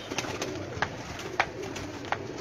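Pigeons on a rooftop coo in a steady soft murmur, with several brief sharper calls standing out at intervals over a continuous background of bird sound.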